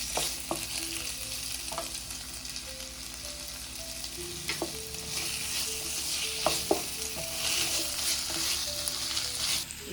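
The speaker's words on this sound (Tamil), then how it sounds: "கொடை மிளகா போட்டு கொஞ்சம் நேரம் வதங்கணும்" Capsicum sautéing in a pan for Chinese fastfood-style chilli chicken, a steady close sizzle with occasional scraping stirs and utensil taps, no voices.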